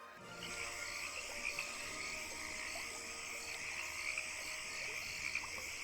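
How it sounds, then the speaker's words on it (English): Faint frog croaks repeat in the Minecraft Wild Update, with a soft firefly buzz nearby. Scattered short calls sit over a steady high-pitched ambient hum, with no talking. "I can already hear the frog making noise"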